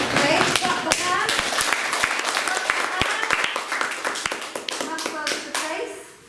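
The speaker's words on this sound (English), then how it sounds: "Okay, clap the hands." Repeated hand claps, sharp and fairly near, in an irregular burst during a group warm-up exercise at a theatre conference, mixed with children's chatter and voices throughout.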